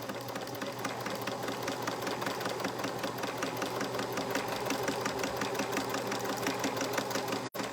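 A home sewing machine runs steadily as fabric is guided along a line, a fast even stitching whir holding constant for several seconds before a brief click near the end.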